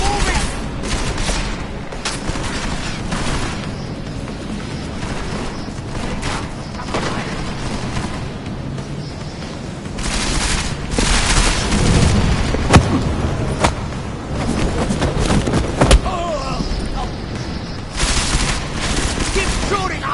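Dense, continuous gunfire and bursts of automatic fire fill a firefight in the video game Deus Ex: Mankind Divided, loud and cluttered with booms, with shouting voices mixed in.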